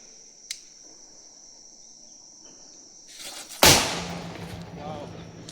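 A single sutli bomb firecracker bursts with one loud, sharp blast, its rumble trailing off over a couple of seconds, following a quiet stretch with faint insect chirps and a small click.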